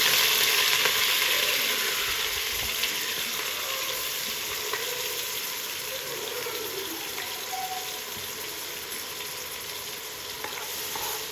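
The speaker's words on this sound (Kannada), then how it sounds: "ಈಗ ಇದು ಈರುಳ್ಳಿ ಬೆಳ್ಳುಳ್ಳಿ ಅರಿಶಿನ ರುಬ್ಬಿರೋದನ್ನ ಇದಕ್ಕೆ ಹಾಕ್ತಾಯಿದ್ದೀನಿ ನಾನು" Ground onion, garlic and turmeric paste frying in hot butter and oil for country chicken sambar, a steady broadband sizzle that slowly fades, with faint watery bubbling and no talk.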